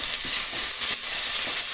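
Tomato frying in a hot pan with garlic and ginger, a loud steady sizzle that hisses continuously throughout with faint stirring underneath.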